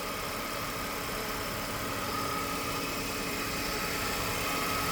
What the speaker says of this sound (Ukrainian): Ось так у нас працює двигун.